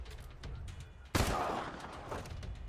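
A single sharp gunshot from a Wasteland 3 combat turn rings out loud and close, followed by a lingering rumbling tail, with a quieter low background ambience before it.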